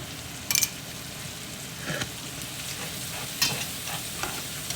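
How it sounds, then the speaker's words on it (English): Mushrooms being stirred in a frying pan, a soft steady sizzle with a few scraping clinks of a utensil against the pan, close and alone without talk. "Go ahead and give this a good mix. And we're going to let these mushrooms cook down for just a couple of minutes."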